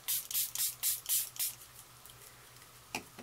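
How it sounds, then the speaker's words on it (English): Six quick hissing spritzes from a spray bottle in an even rhythm, close and fairly quiet, followed by a pause and one last softer spray. "I just have a little spray bottle here that I'm going to use"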